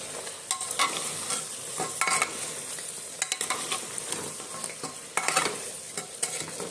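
Meat frying in its own released oil is stirred in a pan, giving a steady close sizzle broken by repeated scraping strokes of the utensil at irregular intervals, with no talking.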